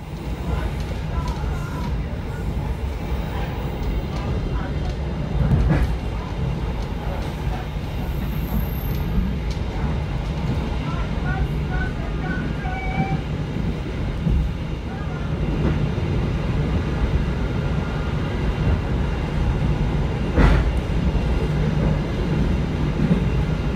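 Kamandaka passenger train running on the line toward Slawi, heard as a steady rumbling rail ride with faint wheel clatter and occasional squeals, continuous throughout, with some talk in the background.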